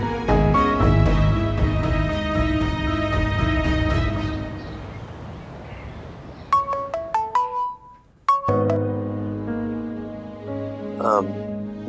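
A phone ringtone plays loudly as a melodic tune with a dense musical bed, breaks briefly into separate chiming notes, then resumes, with the call going unanswered.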